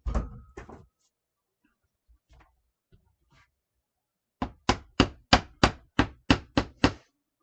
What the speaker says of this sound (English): Every now and then the staple doesn't sink all the way, y'all. Have a hammer handy.